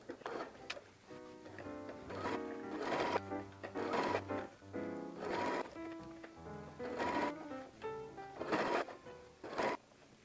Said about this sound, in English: slide the presser foot to the inside of the project and begin sewing here